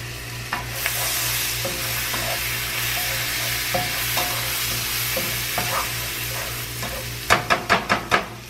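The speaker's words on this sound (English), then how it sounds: "give that a quick saute in the butter" Garlic and green onion sautéing in butter and sesame oil in a pan, giving a steady close sizzle under occasional utensil scrapes and a quick burst of loud stirring clacks near the end, with no talking.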